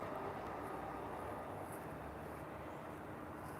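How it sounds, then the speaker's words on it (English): A Surfliner passenger train rolls past a harbor, a steady, loud continuous rumble and rush of wheels and cars that holds through the whole stretch without letup. "There's the Surfliner train, goes through."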